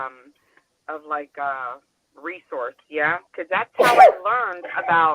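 A single sharp sneeze bursts out loud and close in the middle of casual conversation, with people talking both before and after it.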